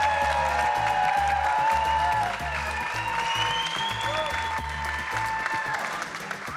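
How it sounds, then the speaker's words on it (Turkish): Studio audience on a Turkish TV game show applauds steadily for about six seconds, sustained clapping under a bright musical backing that eases slightly partway through. "Oğul Bey yakışıklı diyenler alkışlasın"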